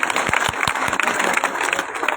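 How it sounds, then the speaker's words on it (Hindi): Audience applause at a public rally in Sardarshahar welcoming the chairman, Satish Poonia: a steady wash of many hands clapping with scattered sharper claps, loud and continuous for a couple of seconds. "अध्यक्ष जी के लिए जोरदार ताली बजा के एक बार स्वागत कर दीजिए"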